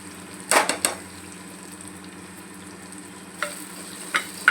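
Onion and tomato with spices frying in a pan for prawn masala, a low steady sizzle broken by a few sharp scraping stirs at the start and again near the end.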